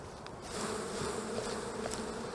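Honeybees buzzing close by during a spring beehive inspection after winter, a steady, dense hum that swells slightly and holds throughout with no talking.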